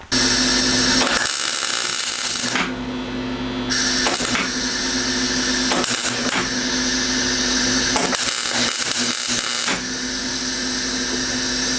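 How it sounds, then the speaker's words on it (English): A welder crackles and buzzes loudly and almost continuously, with a few short pauses, while plug welding a rust repair panel onto a Nissan Skyline R32 front clip. "I'm gonna start with the plug welds"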